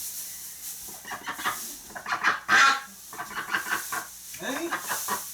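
Duck honking and clucking loudly in a barn during winter cleaning, a run of raspy calls in bursts with one sharp loud squawk midway, close by.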